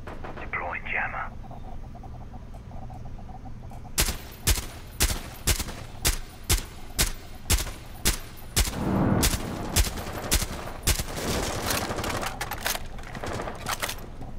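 Rapid bursts of gunfire in the video game Rainbow Six Siege, a loud run of sharp repeated shots after a quieter opening, continuing amid dense game noise with players talking over it.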